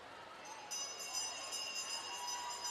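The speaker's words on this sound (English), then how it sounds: "Dorothy Patterson now getting the bell on the girls' side" A final-lap bell rings rapidly and keeps on ringing at a high school swim meet, fairly faint and far off, over the echoing hum of a crowd at an indoor pool.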